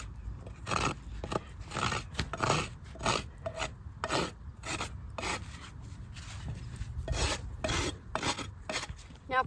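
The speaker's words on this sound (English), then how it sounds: "so that when I rasp, it's got as little movement as possible" A farrier rasps a horse hoof with quick, rhythmic, gritty rubbing strokes, each one a short burst close up, repeated about twenty times at an uneven pace.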